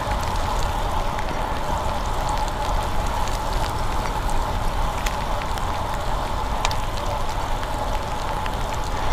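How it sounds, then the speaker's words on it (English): Steady rain pours during a rainy morning commute on a bicycle without fenders, a dense, continuous hiss of drops and wet spray filling the whole clip with no pauses and no talking. "The rain's picked up quite a bit."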